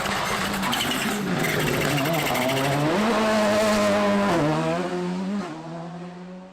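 A Volkswagen Polo GTI rally car drives hard on a tarmac Ulster Rally stage, its engine note loud and close, rising and falling through gear changes before fading slightly at the end.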